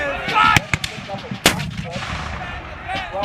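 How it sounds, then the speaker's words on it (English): A large Revolutionary War-era 12-pounder cannon fires solid iron balls in two sharp, loud booms about a second apart. Someone speaks over the blasts and the rumbling background. "12-pounders were quite large and extremely loud, if you can imagine. While they'll fire a solid iron ball that weighs 12 pounds."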